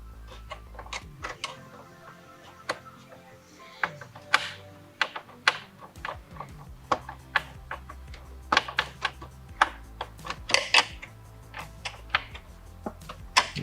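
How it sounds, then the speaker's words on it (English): A small Phillips head screw is driven back in by hand during a Toyota 4Runner stereo install, producing a string of faint, close clicks and ticks at an uneven pace with quiet pauses between bursts. "Go ahead and put this little Phillips head screw back in."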